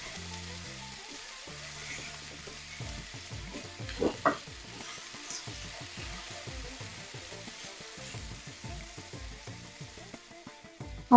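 Vegetables for a South Indian poriyal roast in oil in a pan over medium heat, with a steady soft sizzle and repeated stirring scrapes throughout.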